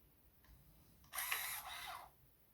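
Electric antenna motor on a Mercedes 124, run on 12 volts while extending, giving a short faint whir followed by a louder buzzing grind of about one second, heard close and alone.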